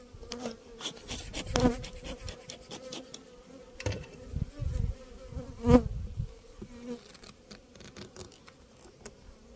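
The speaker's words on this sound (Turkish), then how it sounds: "Üzerinde 8-10 tane arı var." Honeybees buzz on a sparse beehive frame during a spring hive inspection, close and intermittent, with louder passes and handling knocks mixed in.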